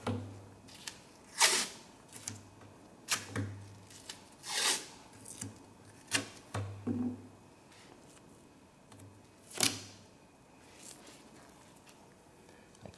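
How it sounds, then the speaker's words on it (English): Strips of athletic tape being torn off a roll for shin splint taping, a series of short sharp ripping bursts spaced irregularly over a quiet room background. "let me quickly tear off a few more strips of the same length"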